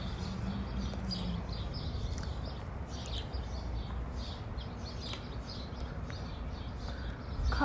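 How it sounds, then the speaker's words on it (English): Faint birdsong rises outdoors near a parking lot, scattered chirps and short tweets repeating over a steady low hum of distant background noise. "Birdies are singing in the background track to the song."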